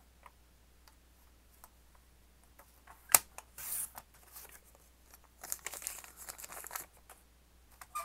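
Scissors cut a square of paper for a craft project. Faint snips and rustling crinkles come close by with no voice, and one sharp click and a few louder rustling runs stand out near the middle and the end.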